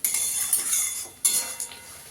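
Spice paste for tomato pabda fish curry is stirred in a pan, a spoon scraping and clinking against metal in a few short strokes, close and fairly loud, with soft frying underneath.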